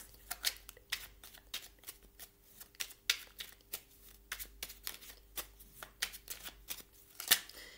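Numerology oracle cards being shuffled for a reading, heard as close, steady rapid riffling with rhythmic card slaps across the whole stretch and one louder snap near the end, with no talking.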